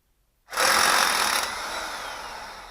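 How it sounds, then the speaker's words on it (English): An impact wrench suddenly starts and rattles loudly up close, hammering as it loosens bolts on seedbed finisher sweeps, then runs a little lower. "I put the impact wrench on this old thing right here, and it spun it loose until that pushed up and started turning"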